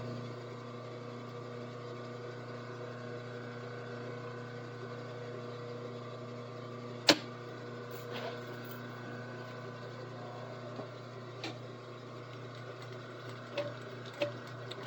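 A sewing machine stitching a half-inch seam runs with a steady, close mechanical hum and whir, broken by a sharp click and a few lighter taps as it backstitches.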